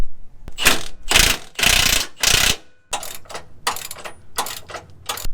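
A hand ratchet clicks in quick bursts while snugging the bolts of a panhard drop bracket on a 100 Series Land Cruiser, with several rapid runs of sharp ratcheting close to the mic.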